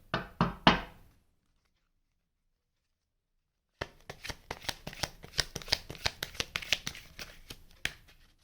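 A tarot card deck being shuffled close up: a few quick riffles, a pause of silence, then a long run of crisp, rapid card slaps and flutters, fairly quiet, with no talk.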